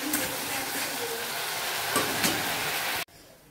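Close, loud, continuous sizzling of a spice base of ginger, onion and garlic frying in a pan for a fish curry, with stirring scrapes, cutting off sharply near the end.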